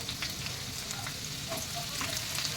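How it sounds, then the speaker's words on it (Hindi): Chopped garlic sizzling in hot oil for street-style potato frankie, a steady close crackle with scattered pops and spits, continuous and fairly quiet, with no voices. "तेल गरम हो गया है, इसमें हम सबसे पहले ये लहसुन डाल देंगे चॉप किया हुआ।"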